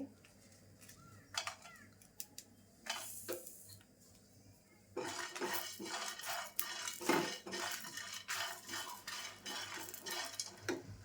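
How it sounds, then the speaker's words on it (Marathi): Grated coconut roasting in a pan with garam masala and chillies added, first light clinks and scrapes, then a louder, continuous dry sizzle and scraping of a utensil against the pan from about five seconds on. "आता हे खोबरं भाजत आलं आहे तर त्याच्याबरोबरच मी ना गरम मसाला पण टाकून घेते आणि हे मिरच्या पण टाकते"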